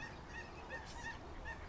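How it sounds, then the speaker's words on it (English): A few soft nasal honks from a goose, fairly faint against steady background noise. "there's a goose following us"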